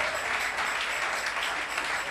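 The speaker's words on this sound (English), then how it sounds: "Lift up your voice and give the Lord a better clap." A church congregation claps together in a steady, sustained burst of applause, moderately loud and continuous throughout.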